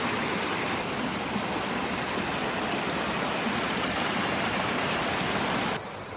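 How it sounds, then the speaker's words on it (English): Guinea Brook, a woodland stream in Connecticut on the Appalachian Trail, rushing steadily and fairly loud as broadband water noise throughout, with a slight drop near the end; no talking. "I've got to cross this stream."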